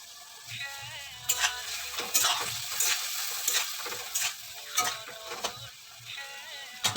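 Cumin and turmeric fry in a hot pan while being stirred, giving a steady sizzle broken by repeated scraping and clinking strokes of the spoon against the pan, close and fairly loud.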